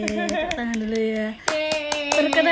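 Audience clapping on a talk show as a guest source is welcomed: a few scattered hand claps, then fuller clapping, with background music tones running under it.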